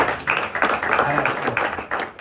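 Church congregation clapping together during a sermon, a short burst of rapid, fairly close handclaps with uneven rhythm and no talk over it.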